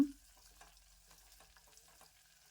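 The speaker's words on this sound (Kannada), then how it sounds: "ಈಗ ಇದಕ್ಕೆ ಕರಿಬೇವನ್ನ ಸಣ್ಣದಾಗಿ ಕಟ್ ಮಾಡಿಕೊಂಡು ಹಾಕ್ಕೊಳ್ತಾ ಇದ್ದೇನೆ ಇದನ್ನು ಸ್ವಲ್ಪ ಫ್ರೈ ಮಾಡ್ಕೊಳ್ಳೋಣ" Finely chopped curry leaves fry in ghee with ginger and garlic, giving a faint, low sizzle with a few soft stirring scrapes and no talking.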